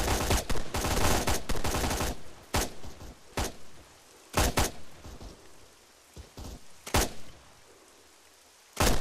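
Gunfire in the Arma 3 military video game, a string of sharp, loud shots in irregular bursts, some clustered rapidly and others spaced apart, with quieter ambient noise in between.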